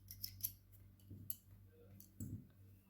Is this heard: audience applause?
no